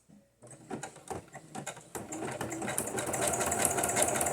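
A sewing machine stitching through paper for junk journal pages runs in short bursts of rapid needle clatter that grow into a steady, continuous whirring rattle, close and moderately loud.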